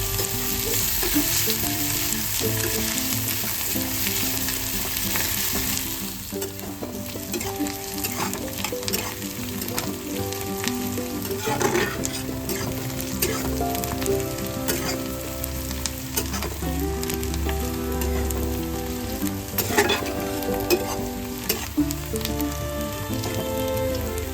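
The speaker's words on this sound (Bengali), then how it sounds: "পেঁয়াজটা আমি ব্রাউন ব্রাউন করে ভেজে নেবো" Chopped onion frying in a pan until brown, a steady loud sizzle with crackling pops and occasional stirring scrapes, carrying on without any talking.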